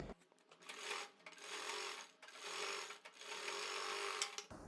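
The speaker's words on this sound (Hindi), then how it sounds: "फोल्ड करने के बाद में हम कन्नी की सिलाई लगाएंगे" An electric sewing machine stitches the folded neck edge of a kurti made from leftover fabric, running in three or four close bursts of rapid whirring separated by short pauses.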